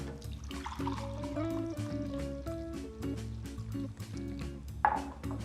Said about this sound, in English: I'm just going to pour this into this lovely mug here.